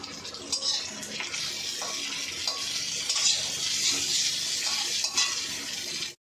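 Hilsa fish fries in a pan, a steady bright sizzle and crackle that runs without a break for about six seconds, with occasional soft scrapes and stirs, close and moderately loud before cutting off abruptly.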